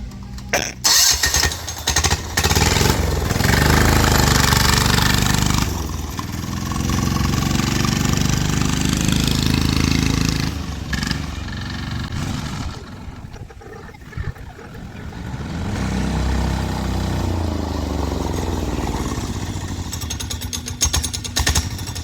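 Diesel-powered drift trike engine running loud and steady, a rough continuous rumble with a brief dip midway before picking back up.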